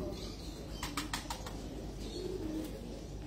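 Pigeons at a rooftop loft flap their wings in a few quick, close bursts over steady outdoor background noise.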